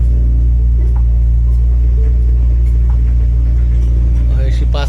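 A car passing along a road lined with greenery and red earth, heard as a loud, steady engine rumble close by, with faint voices and a brief rising whine near the end.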